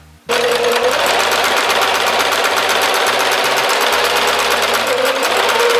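Sewing machine stitching rows of a puff quilt, starting abruptly and running as a steady, loud, rapid mechanical whir and clatter close by, speed shifting slightly throughout.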